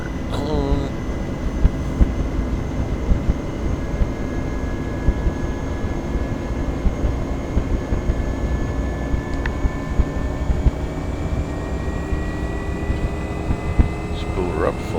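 The turbine of a UH-1 Huey helicopter in X-Plane 11 spools up over a steady engine roar, with rising whine tones climbing through it and a voice talking over the top.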